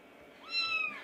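A small kitten gives a single rising-and-falling meow, close and fairly soft, standing out clearly against a quiet room.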